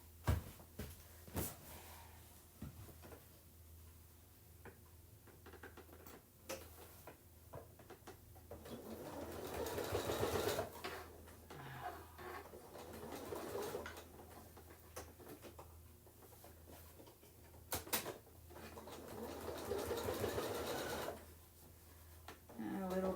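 A sewing machine stitches along the edge of a candy corn colored placemat in quiet, intermittent bursts of faint whirring, with a person talking over the work and soft handling noises between runs.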